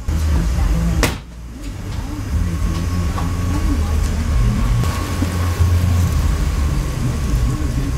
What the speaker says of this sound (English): the only way to get it to settle is to drive backwards and then forwards again